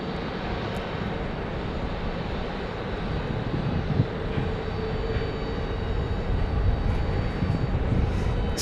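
A SkyWest CRJ regional jet at Phoenix airport, its broad engine roar steady and fairly close, swelling slightly louder toward the end of the stretch.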